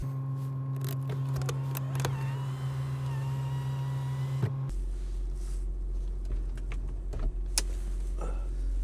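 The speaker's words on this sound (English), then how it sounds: "the roof bar is stopping the sunroof from opening" Motorized panoramic car sunroof whirs as it tries to open with a roof bar blocking it, a steady motor hum that cuts out and shifts to a lower drone, with small clicks and knocks nearby.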